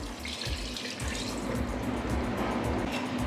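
Water gushes steadily from a tap into a pot of turmeric-coated mutton, a loud, close, unbroken rushing flow with no talk.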